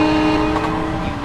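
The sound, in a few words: Metro-North M7A train in video game Train Simulator 2021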